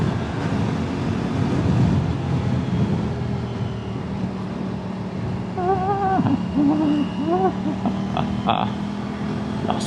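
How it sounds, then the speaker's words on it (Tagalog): Strong wind buffets the microphone during a ride on an Aprilia RS457 motorcycle, a continuous loud rushing roar with engine rumble beneath and brief background voices. "Lakas ng hangin."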